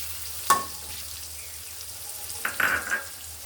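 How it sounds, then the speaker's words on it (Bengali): Green chillies fry in a generous amount of oil, giving a quiet, low sizzle. A sharp metallic clink comes early, and a brief burst of louder spattering and clatter follows later as the chillies hit the pan. "দিয়ে দিচ্ছি কিছু কাঁচামরিচ তার একটু ভেজে নেবে"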